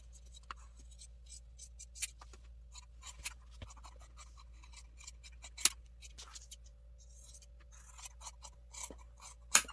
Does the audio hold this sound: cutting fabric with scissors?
yes